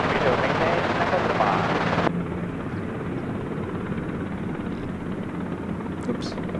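Helicopter lifting off from a helipad at Gold Coast Airport, a steady loud rotor and engine roar that drops abruptly in level after about two seconds and then continues as a lower, constant drone with a faint radio voice.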